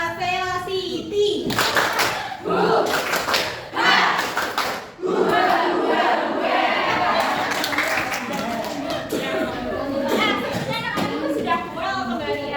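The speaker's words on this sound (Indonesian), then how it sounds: "Tepuk semangat velocity" Schoolchildren in a sixth-grade classroom clap a rhythmic team chant together, with bursts of loud group shouting and cheering between the clap patterns, close and lively throughout.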